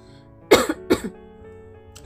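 Two rough coughs in quick succession, close and fairly loud, from a person with a morning cold, followed by quiet room tone.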